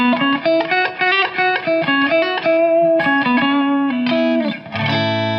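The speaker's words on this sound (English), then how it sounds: "so hall reverb's pretty good" Sustained electric guitar chords and notes ring through an Electro-Harmonix Oceans 3-Verb pedal set to hall reverb, the distorted tones blurring into a lush, spacious wash that plays continuously and loudly.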